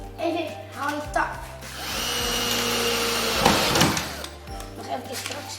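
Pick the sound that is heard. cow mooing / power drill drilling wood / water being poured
power drill drilling wood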